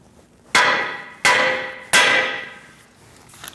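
Three loud, ringing metal hammer blows on the front wheel hub of a 2008–2014 Mercedes-Benz C300 during a wheel bearing replacement, evenly spaced, each with a decaying clang, with no voices over them.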